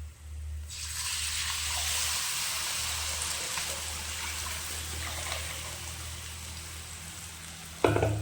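Steady, continuous sizzle of a spice tempering frying in a pan, close and fairly loud, with a low hum underneath and a brief clunk near the end.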